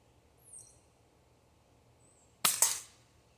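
A Marksman Model 1010 pistol repeater shot at a can on a tabletop, a single sharp snap with a quick metallic ping just after, close and otherwise quiet.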